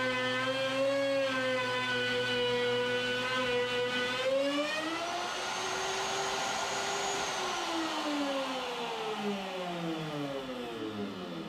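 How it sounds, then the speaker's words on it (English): Handheld router whirs at high speed while cutting through a plywood sheet for a boat cabin hatch, a loud steady whine that sags and recovers in pitch as the bit bites the wood, continuous throughout. "I now will just take the router and I'll cut out a section of plywood"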